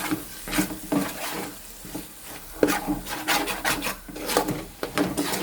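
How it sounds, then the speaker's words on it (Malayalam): A spoon scraping and stirring curry in a pan, with curry leaves and curd being added, gives close, irregular rasping strokes over a soft sizzle, with no talking. "ഇനി നമുക്ക് നന്നായിട്ട് ഇളക്കാം"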